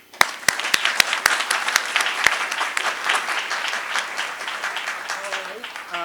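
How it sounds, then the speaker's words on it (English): Graduation commencement audience applause, opening with a few sharp, separate claps close by that swell into dense, sustained clapping from a large crowd, fading slightly toward the end as a voice begins. "let's give them one last round of applause"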